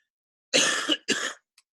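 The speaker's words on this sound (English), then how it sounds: "Sorry, I'm coughing here." Two quick, close coughs in a row, harsh and breathy, with a short gap between them and silence around.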